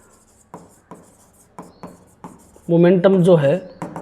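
Chalk or marker strokes scratch across a board in short separate bursts during a physics lecture, with a brief stretch of a voice partway through.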